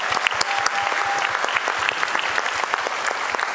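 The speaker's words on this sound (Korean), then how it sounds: "한 박수 한번 하세요" A church congregation applauds together, a dense, steady round of clapping that fills the room at an even level for several seconds.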